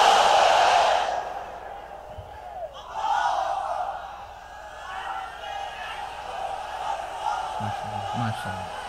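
A large crowd at a religious sermon gathering shouts the takbir, a loud collective roar that swells and then trails off, with a voice leading before the chant.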